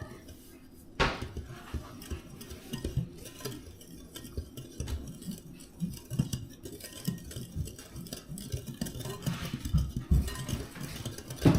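Dry muffin mix ingredients, including flour and a half teaspoon of salt, stirred in a bowl, a soft continuous scraping and light clinking of utensil against the bowl, fairly quiet and steady.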